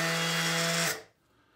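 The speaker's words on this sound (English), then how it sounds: "That sounds like a sander" A DeWalt 20V cordless orbital sander spins with a close, steady buzzing whine, then shuts off and winds down quickly to silence.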